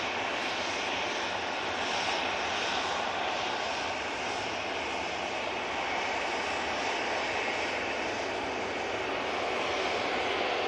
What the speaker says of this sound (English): Jet2 Air Tanker coming down here.